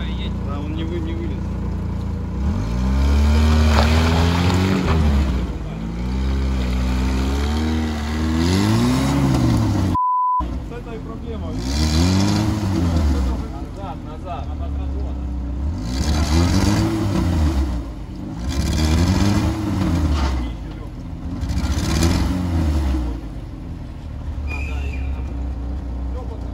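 A Lada Niva engine labours off-road, revving up and easing off in repeated swells as the car crawls over rough ground, loud and close, with people talking over it.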